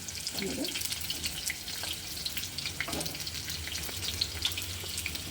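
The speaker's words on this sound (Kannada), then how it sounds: "ಅದನ್ನು ಈಗ ಒಗ್ಗರಣೆ ಅಂದರೆ ಹುರಿದು ಹಾಕ್ತೀನಿ" Onion and tomato frying in a pan for a Kannada-style sambar tempering, a steady close sizzle with faint watery crackle and occasional stirring clinks, no voices over it.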